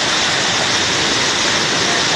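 Flash floodwater rushes through Banaue, Ifugao in a steady, loud, broadband roar, close and unbroken with no voices on top.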